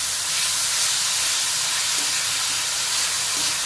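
Grated radish sautés in a pan with chilli flakes and black cumin over a low gas flame, making a loud, unbroken hiss that stays close and even from start to finish.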